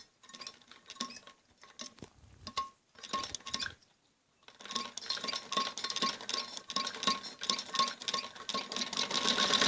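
A sewing machine runs close by, stitching around the curved neck of a kameez jacket lined with buckram, in a steady rattling whir that starts, pauses briefly, then resumes louder and continuous.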